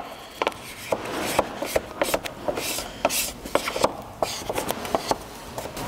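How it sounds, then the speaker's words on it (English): Soft, close rubbing and scraping strokes as a squeegee works chrome delete vinyl film onto a 2020 Toyota 4Runner front grille, a steady run of short swipes that repeat every fraction of a second, heard alone with no talk. "And then just start squeegeeing it little by little."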